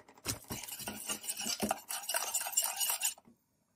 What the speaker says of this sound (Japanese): パスタ炒める